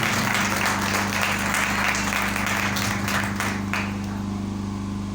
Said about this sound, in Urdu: زوردار تالیاں اس فضل کے لیے بجائیں۔